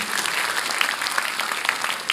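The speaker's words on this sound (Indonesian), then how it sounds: "Beri tepuk tangan yang meriah buat Tuhan." Church congregation applauding during a Sunday service, a continuous burst of many hands clapping with a few sharper individual claps standing out, moderately loud and without talk.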